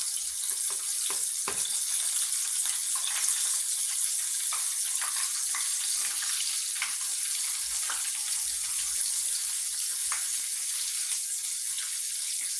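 Steady hissing sizzle of meat frying in a pan, with scattered crackles and pops, continuous and close for the whole stretch.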